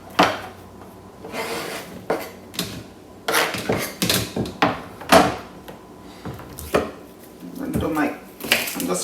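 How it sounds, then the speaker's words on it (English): Knife dicing salad vegetables, including cucumber, on a cutting board: a series of close, irregular chopping taps in bursts with short pauses, standing alone without talk. "I'm just dicing these up"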